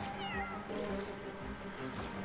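Enemy crazy cats in the video game LittleBigPlanet 3 give short, close meows over quiet game background sound.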